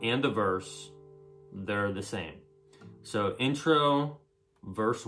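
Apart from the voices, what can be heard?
No everyday noises stand out.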